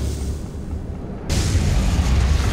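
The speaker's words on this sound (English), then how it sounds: "Ion cannon activated." A low rumbling drone suddenly jumps into a loud, sustained roaring blast as an ion cannon fires in the game Command & Conquer.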